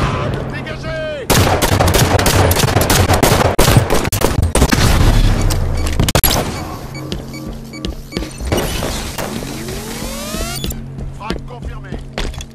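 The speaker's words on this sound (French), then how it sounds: "Grenade ! Dégagez !" In the video game Halo 5, a grenade explosion booms amid dense bursts of rapid gunfire, loud and continuous for several seconds before easing into scattered shots and game effects, with brief voice callouts.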